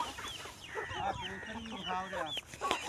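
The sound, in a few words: chickens clucking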